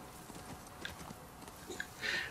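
Horse hooves clip-clop in The Last of Us 2, a few light uneven hoof knocks close by over a steady game ambience, rising into a brighter burst at the end.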